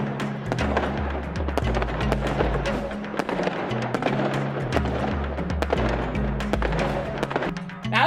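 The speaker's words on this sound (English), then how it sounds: "Let's do some fireworks, too." Fireworks go off as a stream overlay effect, a dense steady crackle of pops and bangs over a repeating low musical pattern, loud and continuous for several seconds.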